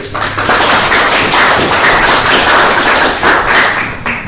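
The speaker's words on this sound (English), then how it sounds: "So I'd like a big round of applause for Minoo" An audience at an education summit breaks into a big round of applause, loud and sustained, with many hands clapping in a dense, continuous wash for several seconds.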